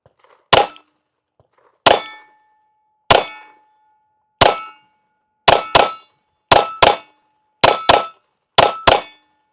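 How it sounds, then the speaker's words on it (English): Nine sharp shots from a Glock 17 Gen 6 pistol at an outdoor range, spaced widely at first and then coming in quicker pairs, each crack leaving a brief metallic ring. "First rounds, Glock 17,"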